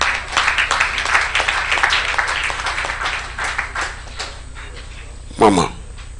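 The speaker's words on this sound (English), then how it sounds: "Please, a round of applause for her, please" An audience claps at an anniversary awards event: a burst of applause that fades over several seconds. A voice talks over it, and a short bark-like sound rises near the end.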